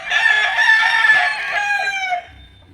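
A tethered adult rooster crows once, a loud, close, drawn-out cock-a-doodle-doo that falls off at the end, heard on its own with no talk.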